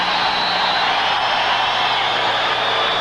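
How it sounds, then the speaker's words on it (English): A basketball crowd at Cincinnati Gardens roars as one loud, dense, unbroken wash of noise throughout. "listen to the crowd in Cincinnati Gardens"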